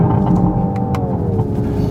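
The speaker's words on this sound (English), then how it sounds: "You get crackles, pops, engine noise." A 2024 Hyundai IONIQ 5 N electric car on the road gives a loud synthetic engine note that sweeps down during a downchange, with a couple of sharp crackles and pops on top.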